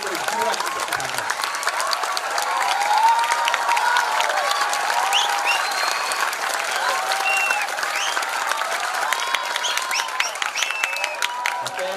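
Big crowd at a political rally applauds and cheers after a speech by a cleric, a dense sustained roar of clapping with scattered whoops and shouts, steady and loud for the whole stretch.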